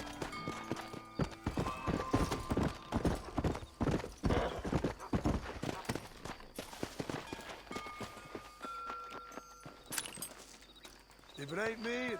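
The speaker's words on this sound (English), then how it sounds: "Oh my god, what is wrong with this horse?" Horse hooves clip-clop rhythmically in the Red Dead Redemption video game, quick trotting beats with a neigh and whinny near the end, while someone talks over them.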